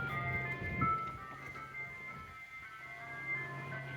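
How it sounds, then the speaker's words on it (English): A small ice cream truck plays its tinkling tune steadily from a moderate distance outdoors, holding sustained melodic tones over low background rumble with no talking. "We have the weirdest little ice cream truck around here."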